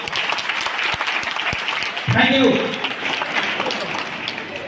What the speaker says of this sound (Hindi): मैं चाहूंगा अपने गुरुजी लोगों के लिए एक जोरदार ताली दें